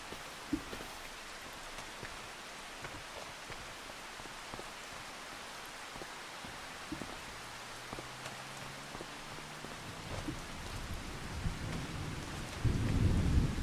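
Rain falls steadily in Farming Simulator 25 while thunder rumbles low and grows, building to a louder, closer roll at the end, with no voices over the storm.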